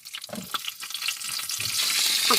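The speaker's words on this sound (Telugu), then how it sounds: "తాలింపు చేస్తా ఉన్నా." Curry leaves are tempered in hot oil aboard a sea fishing boat, a crackling sizzle that starts sparse and rises into a steady hiss.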